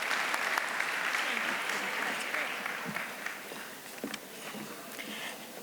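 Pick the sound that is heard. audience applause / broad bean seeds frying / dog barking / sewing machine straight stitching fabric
audience applause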